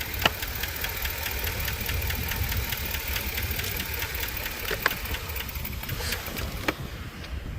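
A car with a failed alternator running after the jump box is pulled off: a steady, rough, knocking engine idle that carries on for several seconds without clearly cutting out.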